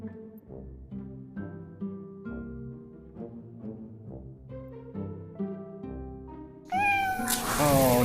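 Space Kitty, a cat character in the Jolly Match 3 AR game, lets out a bright, loud meow over plinking game music at the very end, after a stretch of tinkling chimes.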